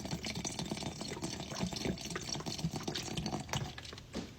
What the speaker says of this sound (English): So we're going to add some more alcohol here.